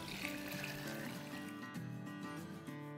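Water poured from a container into a soup pot on a stove for Chicken Corn Soup, a steady close trickling splash lasting throughout with no talk.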